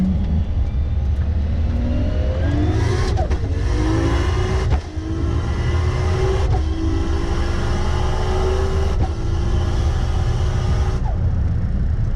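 Race car in a roll race at Round 4 of the Newland Nationals, run with Red Sun Motorsport, accelerating hard and loud. The engine note climbs again and again, broken by several sharp gear shifts over a heavy constant roar.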